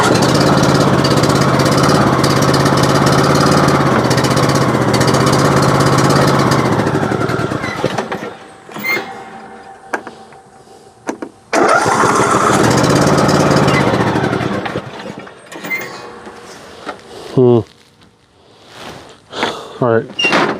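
A hot shop machine's engine runs loudly and steadily, cuts out, then restarts briefly before dying again, with people talking over it and mechanical knocks in the quiet stretches.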